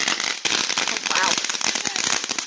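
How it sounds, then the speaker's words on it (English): Dense crackling bursts of fireworks pop continuously, loud and close, with voices talking over the crackle. "we've been out here for 30 minutes setting off fireworks."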